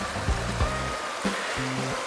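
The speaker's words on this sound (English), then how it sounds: "Our water wheel." Water wheel turning in a village river stream, once used as a village water pump: steady broadband rushing and splashing of flowing water throughout, with a few low thumps, fairly close.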